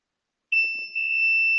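A steady, high multimeter continuity beep starts after a brief quiet moment and holds continuously to the end, clear and close, while probing ground pins on a WRT54G router board.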